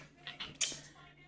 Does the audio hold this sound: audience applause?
no